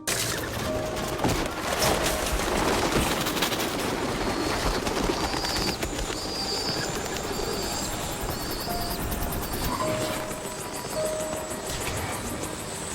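Pigeons coo and flutter amid a dense, noisy film action scene in which they attack and damage a helicopter, with constant rumble and bursts of clatter.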